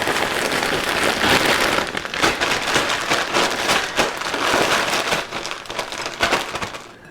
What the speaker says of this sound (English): now what we're doing is we're sprinkling rub all over these beautiful wings